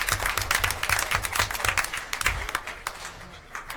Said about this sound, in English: One round of applause again from everybody on the scholar athletes, 53 of our athletes.